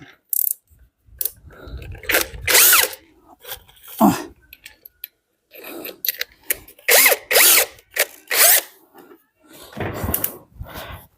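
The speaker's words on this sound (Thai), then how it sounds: "เราก็จะมา ยิงน็อตให้มันทะลุนะทุกท่าน" A power drill drives a bolt through wood for a sliding door fitting, in repeated loud whirring bursts with ratcheting, broken by pauses; someone talks briefly between runs.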